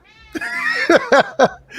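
A house cat meowing close up, one long drawn-out meow followed by three short, sharp meows in quick succession, loud and alone with no talk.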